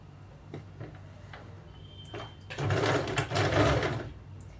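Sewing machine stitching a salwar pant, a few brief clicks and short needle runs, then a loud sustained burst of rapid mechanical whirring for over a second before it stops.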